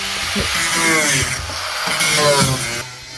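An angle grinder whines and grinds steadily for a few seconds, its pitch wavering slightly as it cuts, then cuts off near the end.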